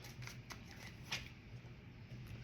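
Tarot cards are shuffled by hand in short riffling bursts, with soft papery flicks coming up close and fairly quiet over a low background hum.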